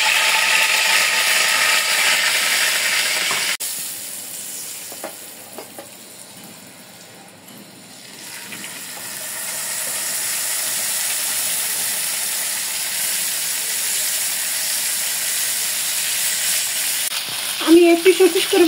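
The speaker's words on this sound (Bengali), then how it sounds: "মাছ ভাজার জন্য" Large katla river fish frying in hot oil in a home kitchen, a steady broadband sizzle running the whole time, dipping quieter midway before swelling back, with a few clatters near the end.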